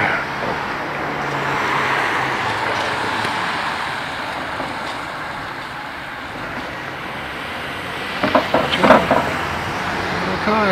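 Continuous whooshing roar of passing traffic, broad and steady, swelling slightly near the end as a vehicle goes by close.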